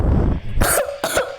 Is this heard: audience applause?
no